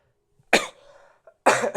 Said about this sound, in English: Sorry, I'm coughing a lot.